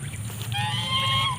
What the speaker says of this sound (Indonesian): suara angsa itu seperti ini nih